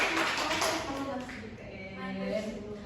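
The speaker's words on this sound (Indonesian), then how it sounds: "Tepuk tangannya dong" Applause in a classroom during a peer-teaching lesson: a dense, steady wash of clapping from a group, sustained for a few seconds at moderate volume with voices mixed in.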